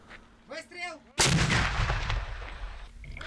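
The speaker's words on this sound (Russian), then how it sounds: "Выстрел!" Artillery gun firing on the front line north of Donetsk, a single very loud close blast followed by a long rumbling decay, after a brief shouted voice.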